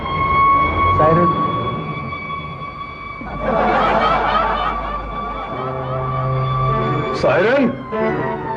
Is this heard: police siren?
yes